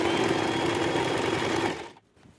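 Sewing machine stitching a fall onto a sari with a piping border, a close, steady whirring run that slows and stops near the end, followed by a faint rustle.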